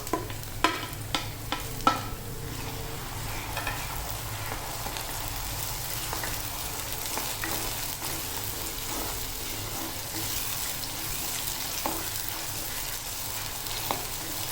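Chopped tomatoes sauté with golden fried onions in a pan, sizzling steadily and fairly close, with a few sharp spoon-scrape clicks at the start and occasional stirring knocks.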